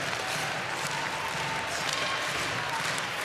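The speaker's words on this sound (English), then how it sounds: "Here comes the crowd." Arena crowd roaring and cheering at a women's ice hockey world championship semifinal between Canada and Finland, a dense, steady wash of voices holding at constant loudness throughout.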